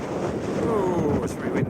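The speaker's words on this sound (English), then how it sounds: "oh, it's very windy." Strong wind buffets the microphone on an open hillside walk above Loch Ossian, a steady roaring rush with gusty swells and no clear speech.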